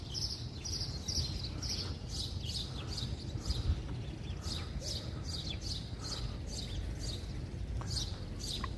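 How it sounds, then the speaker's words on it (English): Small birds chirp repeatedly in a city street on Memorial Day in Brooklyn, with short bright calls scattered over a steady low rumble of traffic and crowd noise. "The birds."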